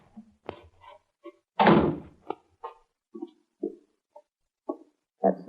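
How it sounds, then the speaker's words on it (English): A house's cellar door at the back of the home thumps and creaks open in a few separate knocks and bumps. Sharp close-up thuds stand out among quieter scrapes. "That's the cellar door."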